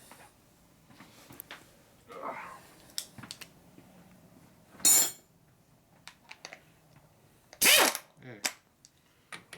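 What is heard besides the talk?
taking a nut off a Harley springer fork rocker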